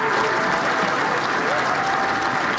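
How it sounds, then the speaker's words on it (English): Dense, sustained applause with cheering from a crowd at the groundbreaking for the University of South Florida Tampa campus football stadium, loud, close and continuous from start to finish. "The cheers and clapping are just a taste of what it will sound like once it opens."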